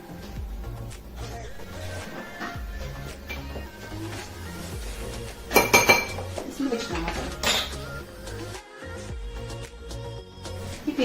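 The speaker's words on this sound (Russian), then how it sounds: "Смешиваем все ингредиенты." Clinking and scraping of utensils against a bowl as crumble ingredients are stirred, with a few louder knocks and rattles midway.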